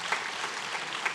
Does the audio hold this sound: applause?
yes